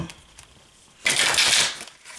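A deck of tarot cards is shuffled at close range, one crisp burst of riffling flutter lasting under a second after a near-silent pause.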